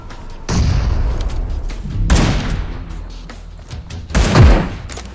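Three heavy, booming grenade explosions in PUBG Mobile roll out one after another, each blast rumbling loud and low before fading.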